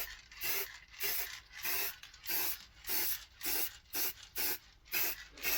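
Matte black spray paint hisses onto recycled wood outside in short repeated bursts, about a dozen even pulses with brief gaps, fairly close and moderately quiet, no voices.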